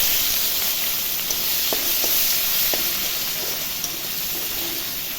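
A steady, even hiss of onions frying in hot oil with dried chillies, cumin and bay leaf, with a few faint clicks of utensils, no voices.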